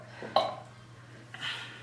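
A person burping after drinking Coca-Cola, two short throaty bursts, the first louder and the second softer, close up in a quiet room.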